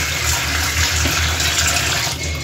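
Water runs from a tap while soaked clothes are washed, a loud, close, steady splashing flow with no talk.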